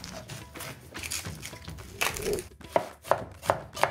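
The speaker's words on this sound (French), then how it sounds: "Je coupe également un oignon." A knife chops an onion on a cutting board for a moong soup, with a series of close, crisp thuds, slow at first then several distinct sharp strokes, no talk.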